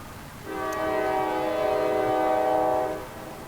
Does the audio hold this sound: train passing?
yes